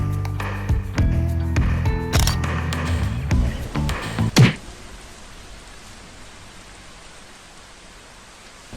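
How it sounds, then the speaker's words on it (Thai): Rain falls in Pattaya, a steady, even hiss that takes over after a few seconds of louder tonal sounds and then continues alone at a moderate level. "ฝนตกครับ"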